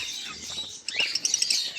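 Kept birds, some of them five or six years old, chirping in a bright, busy chorus of high tweets that grows more rapid and clipped partway through, close by with no talk.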